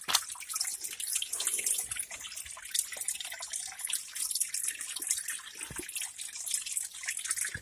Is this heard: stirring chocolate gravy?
no